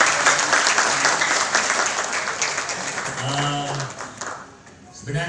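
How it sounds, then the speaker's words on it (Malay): Audience applause at the opening Grand GSS event in Jogja, dense and steady clapping from a large crowd that carries the whole clip and thins out briefly toward the end before swelling again. "Sekali lagi tepuk tangan untuk semua yang hadir"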